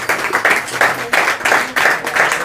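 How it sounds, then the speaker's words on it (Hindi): Students at an award distribution clap together in a steady rhythm, about seven even bursts of close, crisp hand claps with short gaps between them. "आप लोग अपने लिए ताली बजाओ"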